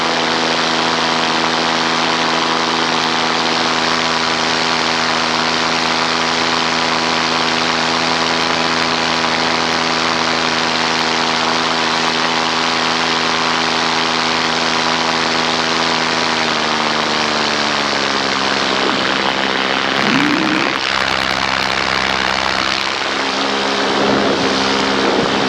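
A paramotor engine drones loud and close in flight after a forward launch, a steady propeller buzz that drops slightly in pitch partway through, with wind buffeting toward the end.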